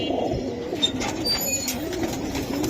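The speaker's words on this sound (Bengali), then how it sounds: "একদম তোতা। হ্যাঁ পুরো তোতা কবুতর।" Pigeons at a busy pigeon market, soft throaty cooing repeated from several birds nearby, with faint chirps and general crowd murmur in the background.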